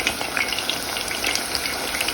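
Thin eggplant slices fry in cooking oil with a dense, steady sizzle and scattered crackling pops, loud and close throughout, with no speech.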